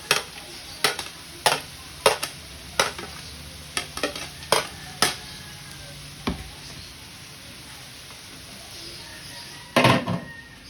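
Garlic and onions sauté in a pan, with a soft, constant sizzle underneath and a spatula scraping the pan in regular, crisp strokes roughly every half second, pausing before a final louder scrape, all close up.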